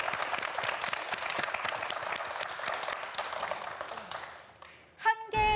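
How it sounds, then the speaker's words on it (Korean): A TV quiz show studio audience applauds steadily, a dense patter of clapping that fades out, followed by a short burst of music. "우리 네 학생 모두에게 다시 한번 박수 한번 부탁드립니다."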